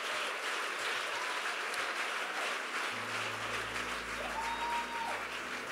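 A church congregation applauding during a sermon, dense continuous clapping and cheering filling the space, steady and even throughout, with a low hum entering partway.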